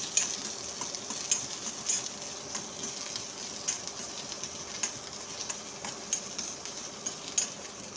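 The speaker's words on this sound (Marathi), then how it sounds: "छान कांदा ब्राऊन होईपर्यंत गोल्डन ब्राऊन होईपर्यंत परतून घेऊया" Onion with sesame, peanuts, coconut and coriander sautés in a pan for a soya kofta curry. A faint, steady sizzle carries scattered light ticks and clicks, with no voices.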